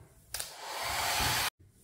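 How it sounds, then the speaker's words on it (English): A hair dryer, used to dry a painted canvas, switches on with a sudden burst and blows steadily with a loud, even whoosh for about a second, then cuts off abruptly. "I'm going to use a hairdryer to dry mine"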